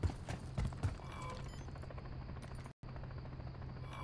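A helicopter hovers in Call of Duty Modern Warfare III, a steady droning rotor hum under broadband game noise, briefly cut out near the end.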